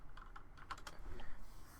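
Soft, rapid keystrokes on a computer keyboard, a brisk run of clicky taps over about a second that trails off, quiet and close with a faint background hum.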